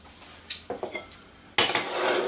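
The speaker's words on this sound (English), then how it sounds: "And we will stir that in" Butter being stirred into a pan with a metal utensil: a few sharp clinks and taps against the pan, then a sustained scraping swirl, close and fairly loud.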